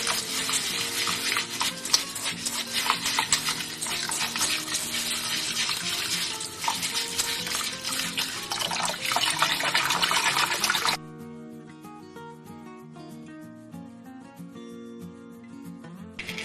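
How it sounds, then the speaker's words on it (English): Basmati rice is washed in water in a home kitchen, with running water and swishing at a steady sink-like wash that stops abruptly, leaving quieter faint tonal background afterward. "And there are several steps we're gonna do to wash this now and prepare the rice."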